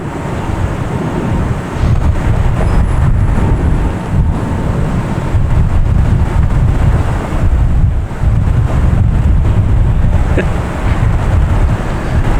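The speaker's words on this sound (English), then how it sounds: "The wind got gusty all of a sudden there." Strong gusty wind buffets the microphone at Boston Logan Airport, a loud, continuous low rumble that surges and dips in waves with no talk over it.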